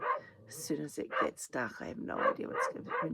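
Someone speaks continuously while dogs bark and yip intermittently in the background.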